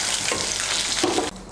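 Latha fish pieces fry in hot oil until reddened, giving a steady loud sizzle that crackles throughout and then drops off sharply near the end.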